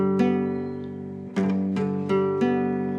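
A guitar barre chord is picked one string at a time, each note ringing clearly and sustaining into the next, with five distinct plucks in an unhurried sequence and no speech.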